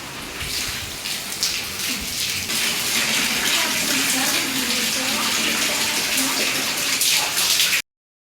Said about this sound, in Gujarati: જો વરસાદ ચાલુ છે અત્યારે